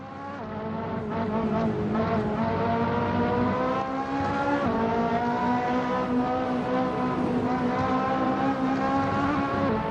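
A car drifts under handbrake in the Assetto Corsa racing game, a steady loud engine drone with sustained tire squeal running continuously throughout, no voices.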